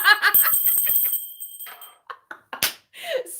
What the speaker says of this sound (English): you get the obnoxious bell